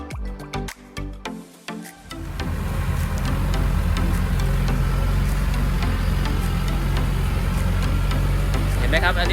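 A farm tractor-truck carrying a 5-ton water tank drives while spraying: a few brief splashy bursts give way to a loud, steady rushing spray over a continuous engine rumble.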